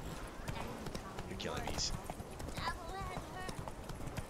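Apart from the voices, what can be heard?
horse hooves clip-clopping in video game Witcher 3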